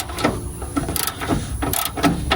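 A manual ratchet loosens radiator bolts on a 1979 Ford F100, making a rhythmic series of close metallic clicks at a steady working pace.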